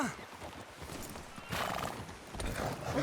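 In the Red Dead Redemption 2 video game, a horse whinnies and its hooves clip-clop under steady game noise and faint voices, with the hoofbeats growing louder toward the end.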